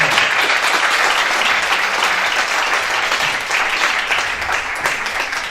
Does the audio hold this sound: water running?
no